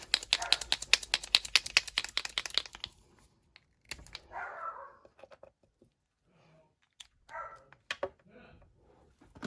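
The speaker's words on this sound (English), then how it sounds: "So sorry about the barking." A dog barks rapidly and repeatedly indoors after a doorbell rings, loud and close at first, then a few scattered sounds and faint voices follow.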